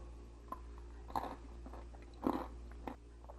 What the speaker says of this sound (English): It's a good crunch.